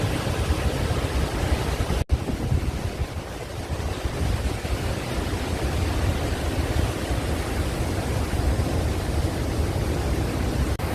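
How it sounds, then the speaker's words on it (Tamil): Athirappilly waterfall in Kerala, with water dropping 82 feet, gives a steady, broad roar that fills the whole stretch without a break, loud and close. "இங்க 82 அடி உயரத்துல இருந்து தண்ணி பெய்யுது"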